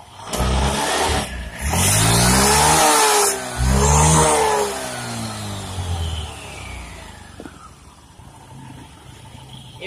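An automatic motor scooter engine fires up and revs hard in two loud surges, then settles back toward a fading idle, heard close with no talk over it.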